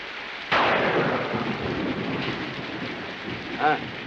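A heavy rainstorm in a 1960s western film pours down steadily, with a sudden crack and roll of thunder near the start and a brief rumble later on.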